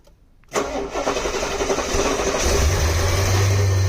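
A Cadillac Eldorado with a 507ci V8, sitting unused for a year, cranks and catches, then settles into a steady, loud, close-up idle with a low rumble that grows fuller toward the end.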